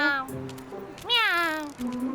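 A cartoon cat lets out a couple of clear, close meows, the second one rising and longer, in an animated children's show with little else around it.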